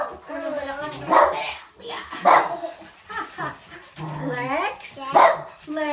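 Brandy the dog barks in short yelps several times amid lively family chatter, the barks mixed in with overlapping voices at close range.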